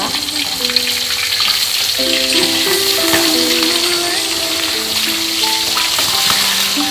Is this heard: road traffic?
no